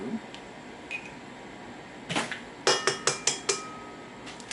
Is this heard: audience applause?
no